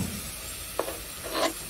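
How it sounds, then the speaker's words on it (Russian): Meat sizzles in a frying pan on a home stove, a steady faint hiss with a couple of brief louder crackles as pieces are moved or stirred. "Ты мясо скидывай, пусть оно все вместе обжаривается."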